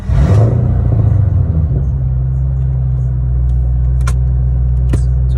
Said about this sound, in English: Here's a little cold start for you.